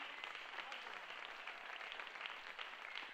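A church congregation applauds a visiting apostle being introduced, a steady wash of many hands clapping at a moderate distance, continuous and even throughout with no voices standing out.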